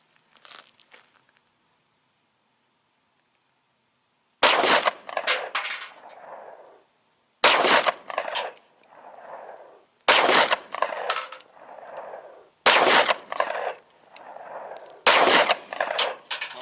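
A 9mm pistol fires Team Never Quit 100-grain hollow-point frangible rounds at a range: five loud, sharp shots spaced a few seconds apart, each trailed by a rolling echo.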